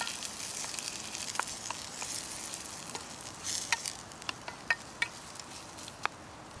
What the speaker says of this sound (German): Die Zwiebeln, die werde ich jetzt goldbraun anbraten